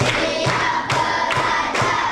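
A room full of people clapping in unison on a count, four loud crisp collective claps spaced evenly in a steady rhythm, each one a sharp burst with a short ringing tail.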